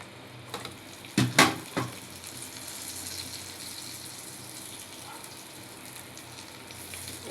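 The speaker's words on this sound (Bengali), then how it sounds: "কত সুন্দর ভাজাটা হইতাছে" Fish wrapped in pumpkin leaves frying in a pan gives a steady low sizzle, with a few louder spits and crackles near the start before it settles into an even hiss.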